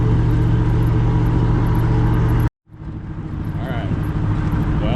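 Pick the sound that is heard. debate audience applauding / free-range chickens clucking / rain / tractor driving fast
tractor driving fast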